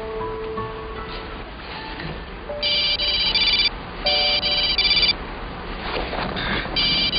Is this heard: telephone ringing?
yes